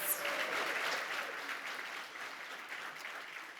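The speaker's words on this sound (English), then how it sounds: "Let's have a round of applause for both of our top seniors" Audience applause at an annual banquet honoring two top seniors, a moderate, even wash of clapping from a seated crowd that gradually thins toward the end.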